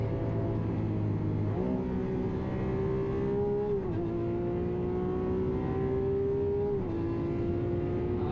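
A Lamborghini Aventador V12 runs hard on the Nürburgring: a loud, steady engine drone held at high revs, with its pitch dropping and climbing again at a few gear changes, and no talking.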